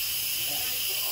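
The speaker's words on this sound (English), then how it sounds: "I hit this valve here because it's a pressure cooker. which valve? This valve, steam, hot, coming out." Hot steam from a pressure cooker valve during a quick release makes a loud, continuous high hiss. It runs unbroken and close, with faint voices underneath.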